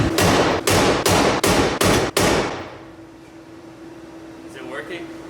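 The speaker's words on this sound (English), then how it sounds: "So I'm gonna try to hammer it that way." Six heavy metallic hammer strikes on a Nissan 240SX frame rail ring out in steady succession, loud and close, then fade into a low hum with faint voices.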